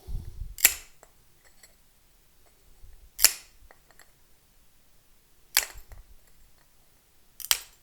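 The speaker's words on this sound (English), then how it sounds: "So we just do little nips just to clean it up." Tile nippers snap off small edges of broken ceramic cup pieces for a mosaic: four sharp, isolated clicks spaced a couple of seconds apart in a quiet room.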